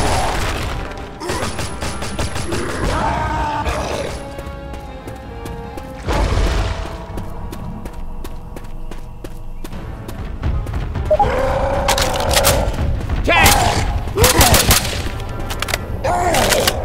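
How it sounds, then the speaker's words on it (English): Gunfire from survivors shooting at a Tank in Left 4 Dead 2, with dense bursts of shots and crashes through most of the stretch, heavier toward the end, along with game noise. "We got a tank! Don't stop shooting!"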